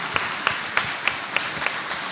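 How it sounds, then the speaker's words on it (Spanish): Applause at a national agricultural crop-protection congress, honoring three panelists after a question session: a thin, fairly quiet patter with a few sharper claps standing out at a steady pace, no talk over it. "Le damos un muy fuerte aplauso a los tres panelistas."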